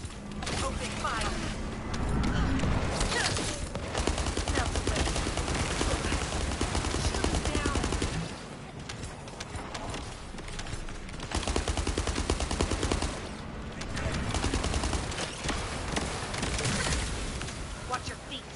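Sustained gunfire in The First Descendant, with long dense bursts of rapid shots separated by brief lulls, loud and close throughout.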